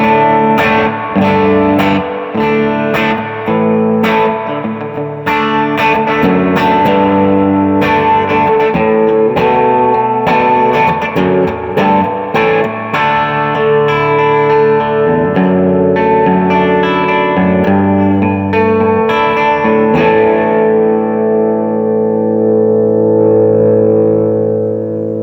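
An electric guitar plays chords and single notes through a Like My Pedals Dual Preamp Overdrive with the drive engaged, giving a loud, sustained tone on the edge of breakup that rings out alone for the whole stretch.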